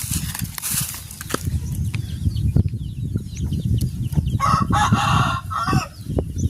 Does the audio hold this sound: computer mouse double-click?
no